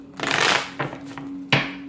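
Tarot cards shuffled by hand up close: a long riffling burst, then a brief flick and a sharp final slap of the deck, with a faint steady hum underneath.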